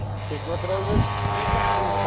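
Model aircraft propeller engines at an outdoor model air show being started old-style, a buzzing drone with wavering pitch, fairly close, heard beneath a commentator's voice.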